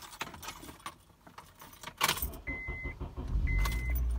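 Keys jangle in a series of bright metallic clinks beside a car on a frosty night. A couple of electronic chirps and a low rumble follow near the end.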